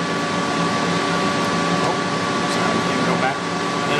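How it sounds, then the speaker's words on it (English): Internal cooling fan of a Lincoln Electric Power MIG 262 welder set to stick mode: a steady, close whirring hum with a faint electrical whine, continuous throughout. "Now you can notice that fan kick on, because we chose stick."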